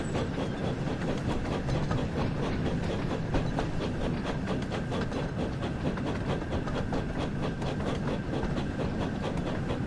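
Steam locomotive in a Thomas the Tank Engine video game running at speed, a steady continuous rumble with rhythmic clickety-clack of wheels and a faint hiss, loud and unbroken throughout.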